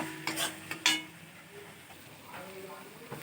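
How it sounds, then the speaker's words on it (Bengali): Spice paste frying in oil in a pan while being stirred, with a few soft scrapes and clinks of a utensil against the pan early on, then a low steady sizzle. "এটা কিছুক্ষণ নাড়বো, যতক্ষণ না থেকে তেল বেরোচ্ছে ততক্ষণ নেড়ে যাব।"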